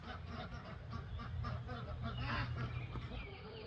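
Ducks and other farm poultry call on pasture, with a busy overlapping run of honks and quacks close by and a soft background murmur throughout.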